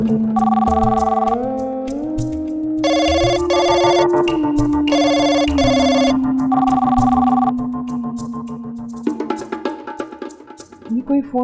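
A phone rings on and on unanswered, a bright warbling tone repeating in bursts over a sustained musical drone, fading into clattering sounds at the end.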